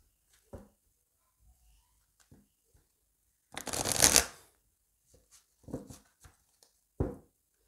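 An oracle card deck is shuffled and cut by hand, giving a loud riffling burst in the middle surrounded by softer card taps and slides, close up with no talking.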